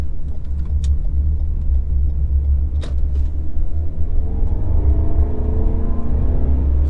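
A 2021 Lexus NX 300 accelerates on the road, a steady loud low engine rumble with rising whine tones as it picks up speed, no talk.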